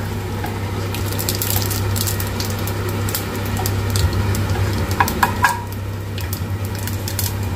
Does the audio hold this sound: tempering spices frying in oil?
yes